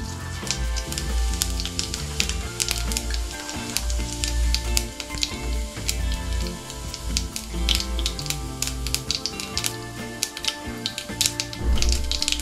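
Mustard seeds and cumin crackle in hot oil in a Marathi home kitchen, a dense run of sharp pops and sputters over a continuous sizzle, with no speech.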